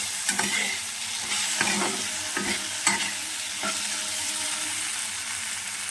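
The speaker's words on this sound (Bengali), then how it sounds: "এবার সব একসঙ্গে আবারও ভালো করে মিশিয়ে নেব।" Ground cumin and coriander masala is stirred in an oily frying pan, giving a continuous sizzle broken by repeated scraping strokes of the spoon, loud and close, with no talking.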